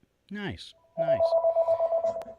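A mobile phone ringtone starts right after a brief spoken word, a steady electronic tone pulsing in a quick, even rhythm, close and clear, with a faint voice underneath.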